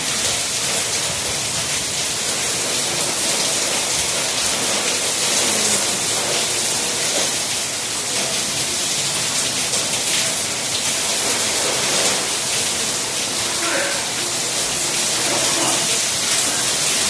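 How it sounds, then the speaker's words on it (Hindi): Heavy rain pours steadily and loudly throughout, a dense, continuous hiss of drops hitting surfaces close by, with no break in intensity and no voices over it. "इतनी तेज़ बारिश हो रही है।"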